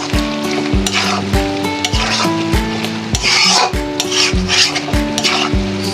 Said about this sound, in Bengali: আমি অনেকক্ষণ সময় নিয়ে ভুড়িটাকে কষালাম